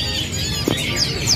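A kapasan kemiri songbird at a bird market calls in quick, bright chirps and trills over a murmur of market background noise.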